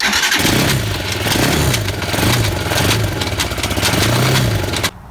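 A small 250 cc quad bike engine cranks and turns over loudly with a rough, pulsing rhythm, then cuts off abruptly near the end.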